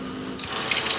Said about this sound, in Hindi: ये देखें मोटर चलाई है इसने अभी, तो गर्म पानी निकाल के हाथ धो रही है